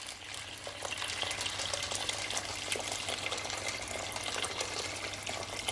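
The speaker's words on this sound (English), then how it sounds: "I'm gonna add some water," Boiling water is poured into a pressure-cooker pot of stewing chicken with pimento seed, giving a faint, continuous hissing, bubbling splash with a low hum underneath and no speech.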